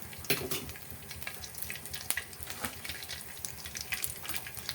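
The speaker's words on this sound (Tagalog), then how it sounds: "Diyan tayo magigisa ngayon ng ricado." Onions, garlic and chili for chicken and pork adobo sizzle steadily in a hot pan, a dense close frying hiss with occasional sharper pops and stirring scrapes, and no one speaking.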